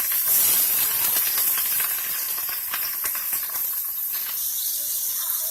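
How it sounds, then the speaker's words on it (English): Salmon sizzles in organic virgin coconut oil in a pan, giving a loud, steady hiss that holds for the whole stretch with no talking over it. "So while that is cooking in the coconut oil, we're going to go ahead and add our seasonings."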